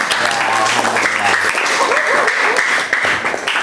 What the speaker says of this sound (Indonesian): Beri tepuk tangan buat Jihan